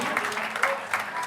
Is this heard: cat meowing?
no